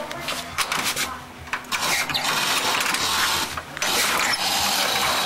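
1917 Ford Model T engine being hand-cranked to start, a loud run of mechanical grinding, rattles and chugging bursts that rise and pause, with no clear talk.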